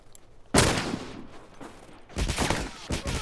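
Rifle fire in The Last of Us Remastered multiplayer, a loud close shot followed by a later cluster of rapid gunshots, with scattered combat noise between bursts.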